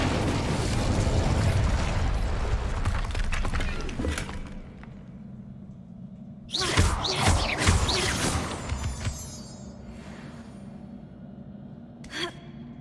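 Incendio, a fire spell in Hogwarts Legacy, erupts with a loud whooshing blast of flame and crackling bursts that roar for a couple of seconds, then fade into quieter ambience and a later small pop.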